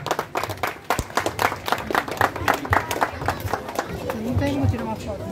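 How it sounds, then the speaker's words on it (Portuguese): A crowd claps in a dense, continuous burst of applause at the finish of a 2023 community cycling ride in Artur Nogueira, with voices chattering and calling over it. "Uma salva de palmas"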